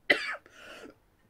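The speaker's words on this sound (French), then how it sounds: "je tousse encore beaucoup, je suis désolée." A woman coughs once sharply, then gives a rougher, softer second cough or throat clear, close and quiet in a still room.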